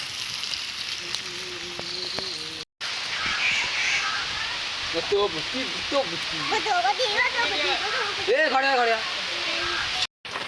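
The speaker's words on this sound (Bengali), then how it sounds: "দেখুন কেমন বৃষ্টি আসছে" A constant hiss of heavy rainfall fills the background throughout, steady and dense, while a person talks over it during outdoor cooking.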